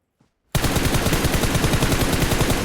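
Sustained rapid automatic gunfire from PUBG Mobile, a loud, dense burst that cuts in abruptly after a moment of near silence and rattles on continuously to the end.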